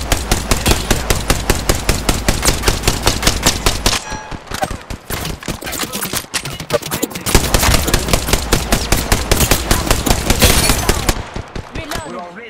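Loud, rapid automatic gunfire in the video game Apex Legends comes in long bursts of fast, evenly spaced shots with a brief, messier break in the middle before the steady firing resumes.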